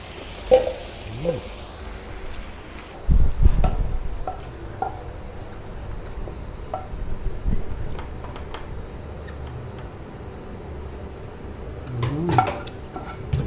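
Minced pork and clown featherback fish balls stir-fry in a pan with a soft sizzle, and a spatula clatters and scrapes against the metal in scattered knocks, with people talking nearby.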